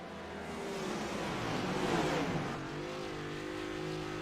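A race car in the iRacing game, a trashcar on a custom dirt race at Bristol Motor Speedway, revs hard with rising engine pitch, peaks, then settles into a steady higher whine, alone and moderately loud.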